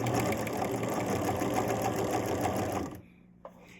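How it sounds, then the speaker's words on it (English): A domestic sewing machine chain-stitches quilt pieces for a sawtooth block, running in a fast, steady close-up whir for about three seconds before stopping, followed by a faint click. "So I'm just chain stitching."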